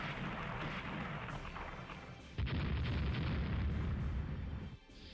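Heavy naval shell hits striking the battleship Montana in the Rule The Waves naval strategy game: a dense, continuous rumble of booms and explosions that grows louder midway, then dips briefly near the end.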